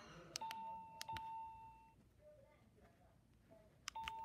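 A bunny-shaped alarm clock emits short electronic beeps and steady tones as it is set, a few sharp chirps followed by a sustained tone, then quiet room hiss and another beep pair near the end.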